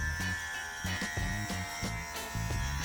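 Electric hair clippers buzz close up in a steady drone, pulsing in short rhythmic strokes as they trim hair for a Viking-style cut, with no voice.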